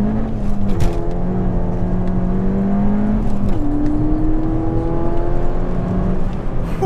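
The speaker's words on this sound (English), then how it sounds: "I short shifted into second, and we just gripped and went" A stage 1 tuned Ford Fiesta ST accelerates hard on a test run, its engine a loud, steady drone with rising pitch that drops briefly at a short shift into second, then climbs again.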